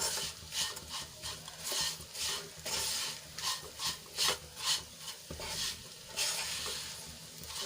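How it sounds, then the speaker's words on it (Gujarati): Torn roti pieces sautéed in a pan until crispy, with repeated scraping and stirring strokes in an uneven rhythm over a soft sizzle, close and fairly quiet with no talk. "આ રીતે હલાવીને એને આપણે ક્રિસ્પી થાય ત્યાં સુધી સાંતળી લઈશું"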